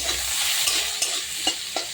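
Potatoes frying in a pan with salt and turmeric give a steady broadband sizzle while a spatula stirs them, scraping in a few distinct strokes near the end.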